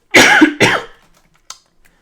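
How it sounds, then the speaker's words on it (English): A person coughs twice in quick succession, close and loud, followed by a faint short throat sound after a pause. "That's just me coughing because I sucked in the air really weird"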